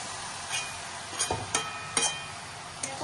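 Boiled cabbage goes into a hot pan with spices and sizzles softly, with a few sharp crackles and stirring scrapes over a steady background hiss.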